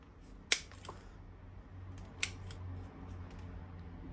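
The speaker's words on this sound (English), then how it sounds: "we can cut all of these back" Scissors snipping the roots of a banyan-style Schefflera bonsai during repotting, two crisp close cuts with a softer click between them against a low, steady background hum.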